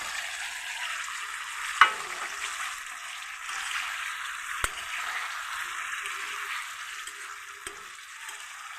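Potatoes fried with salt and turmeric sizzle steadily in hot spiced masala for a vegetarian soybean muitha, with a sharp utensil clack near the start and a couple of lighter taps later, and no talking.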